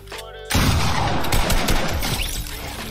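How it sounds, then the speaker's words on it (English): Assault rifle fire in Fortnite bursts in loudly after a short quiet start, a dense run of rapid shots carrying on steadily to the end, close and harsh. "One of the AR shots had to hit me"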